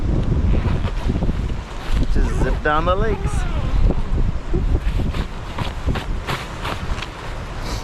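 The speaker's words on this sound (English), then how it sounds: "It is so windy." Strong gusting wind buffets the microphone outdoors in freezing weather beside a Honda NC750X DCT motorcycle, a loud, rough, fluctuating roar, with a person speaking briefly over it.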